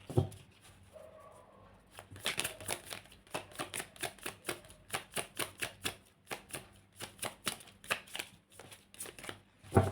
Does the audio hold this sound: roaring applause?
no